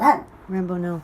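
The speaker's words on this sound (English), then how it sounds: "sorry for the dog bark" A single dog bark lands near the start, loud and close, followed by a person speaking.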